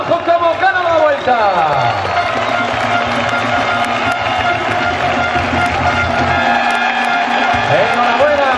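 A crowd at the Madrid finish of the 2011 Vuelta a España applauds and cheers winner Juanjo Cobo in a steady, moderately loud wash. A commentator talks over it, and engines sweep past now and then.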